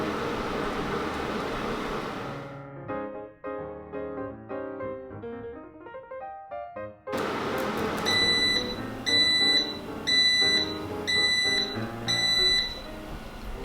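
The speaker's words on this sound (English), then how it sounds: "I'm just going to wait for the beeping sound." An air fryer cooking chicken wings sounds a repeated series of short electronic beeps in regular groups, fairly clear over the fan's steady whoosh.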